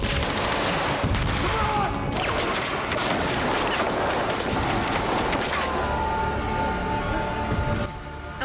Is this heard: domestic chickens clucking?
no